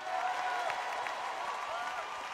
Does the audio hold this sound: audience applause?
yes